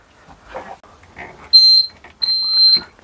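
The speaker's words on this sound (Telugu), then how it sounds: "ఆ బీప్ సౌండ్ వస్తుంది కదా, ఈ స్టాప్ నొక్కితే డ్రైవర్ కనిపించి బస్సు ఆపుతారు" A sleeper-seater bus's emergency stop button gives two loud, clear electronic beeps in the second half, a short one then a longer one, each following the same quiet talk heard at the start.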